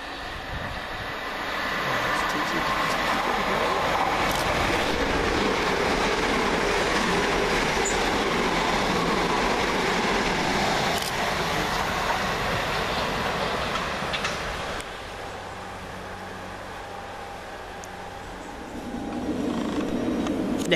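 Two coupled Class 387 electric trains rush through Burgess Hill railway station at speed, a steady roar of wheels and rails with faint clatter, easing slightly before another swell near the end.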